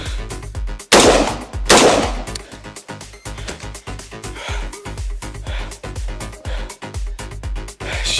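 Two loud, sharp gunshots ring out close by, followed by a string of quicker, lighter bangs and clattering.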